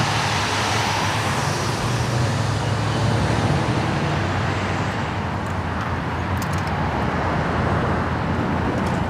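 A 1995 car drives along with a steady, loud road and engine rumble heard from inside, continuous throughout with no talking.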